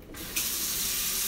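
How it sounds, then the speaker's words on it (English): Hot water gushing from a tap into a sink, a steady close splashing rush that starts softly and swells louder partway through, with no talking. "Get some hot water going."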